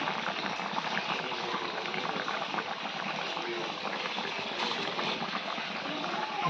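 Bengali fish curry (macher jhol) bubbles in a pot as a loud, dense, continuous boil that holds steady throughout without any pause.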